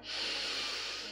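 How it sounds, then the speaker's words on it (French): A single deep inhale during a chair yoga session: one steady, airy breath drawn in close to the microphone for about a second. "Inspire"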